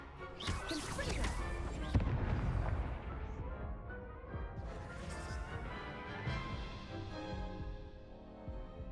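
Confringo fire-blast spell exploding in the video game Hogwarts Legacy, a loud booming crash with crackling debris amid a dense, continuous battle din of spell effects and music.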